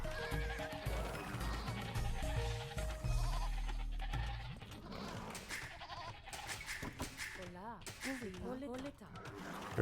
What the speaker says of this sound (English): We got a lot of goats.